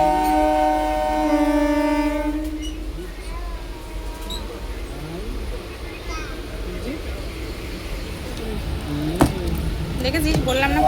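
A train bound for Puri sounds a long, loud horn blast before departure, followed by the rumble and clatter of rail cars, with voices nearby.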